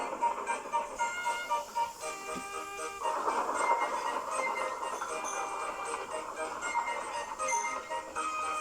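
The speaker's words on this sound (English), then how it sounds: "Henry pumped the sulky diesel into motion and started to race." A sulky diesel locomotive pulls into motion and gathers speed, a steady mechanical rumble and rattling rail noise that grows fuller and louder partway through, with faint music-like tones mixed in and no talking.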